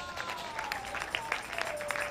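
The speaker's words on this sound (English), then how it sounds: "Let's clap for Jesus." A church congregation claps during a service, a brief patter of scattered hands at moderate distance over a faint sustained tone.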